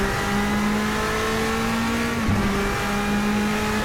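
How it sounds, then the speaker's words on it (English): Bentley Speed 8 twin-turbo V8 race car at Monza in Assetto Corsa, a steady droning engine note holding a constant pitch with a brief dip and recovery midway, loud and continuous with no talk. "The sound of that twin turbo V8 is awesome."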